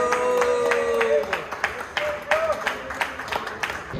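A crowd claps with sharp, scattered hand claps at a motorcycle accessories and service shop inauguration for a Triumph Rocket GT, loud and close, under people talking and a faint whistling tone.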